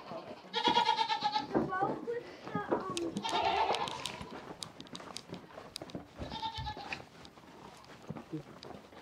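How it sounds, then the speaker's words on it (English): Nigerian Dwarf goats bleating in a barn on a homestead, several loud, wavering bleats in bursts near the start, middle and later, with a person talking and some handling noise between them. "Here comes the third goat."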